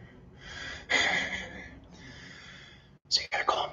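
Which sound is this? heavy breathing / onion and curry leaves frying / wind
heavy breathing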